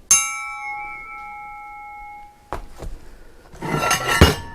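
A single sharp strike on a thin forged U8 steel axe head rings out with a clear, bright tone that slowly decays, followed by clattering and a few handling knocks.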